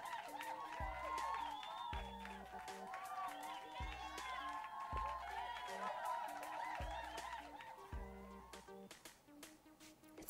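A video game crowd applauds and cheers at a high school prom, a steady roar of clapping and whoops heard throughout over a thumping music beat, easing off slightly toward the end.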